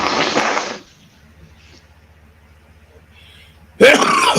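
A single sharp, loud sneeze close to the microphone, bursting out after quiet room tone, with a voice speaking just before it.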